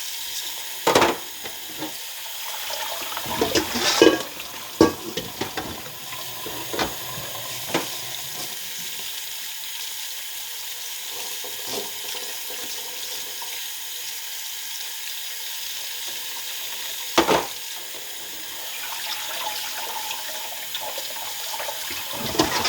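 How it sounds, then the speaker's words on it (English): Cold tap water runs steadily over hot cooked noodles for Thai curry laksa, a continuous close splashing hiss with occasional clunks and knocks, and no voices. "Going to run cold water through them as well, just to stop them from cooking."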